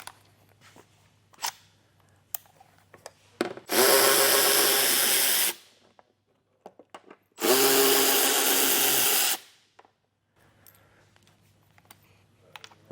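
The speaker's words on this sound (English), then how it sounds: "We're going to take a 7mm socket and remove those bolts." Power tool driving a 7mm socket to remove bolts during a wiring harness installation on a 2022 vehicle, two sustained whirring bursts of about two seconds each, separated by quiet clicks and handling noises.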